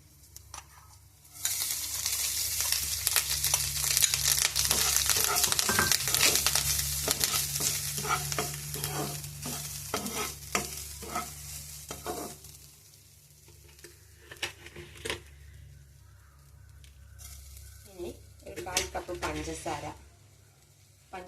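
Cashews, raisins and grated coconut stirred in a hot frying pan for a Malayalam snack recipe, with a steady sizzle and repeated scraping strokes that fade near the end while a person talks.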